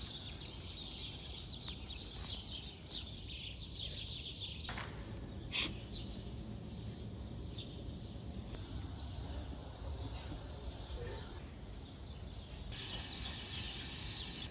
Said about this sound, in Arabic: وصوت العصافير مالي المكان